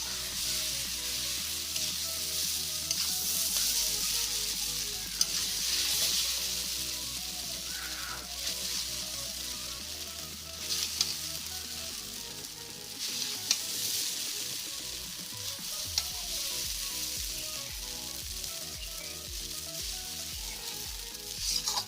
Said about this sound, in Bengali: পেঁয়াজটাকে ভালো করে ভেজে দেবো প্রথমে, ভেজে নেওয়ার পর তারপর আমরা চাউমিনটাকে দিয়ে দেবো কড়াইয়ের মধ্যে।